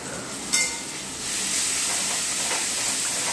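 Masala sizzles and hisses as it is sautéed in a pan before meat goes in, a steady close frying sizzle with a brief clink near the start and no talking.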